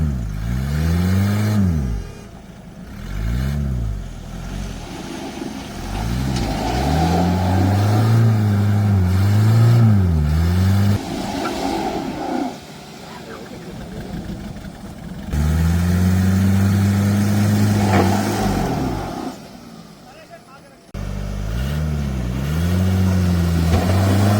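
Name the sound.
stuck car revving engine trying to get out in jungle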